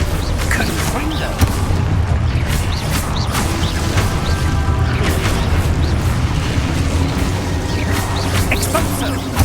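Spell explosions and magical combat effects in Hogwarts Legacy: repeated booms, crashes and bangs layered over a dense game soundscape, with voices heard among the action.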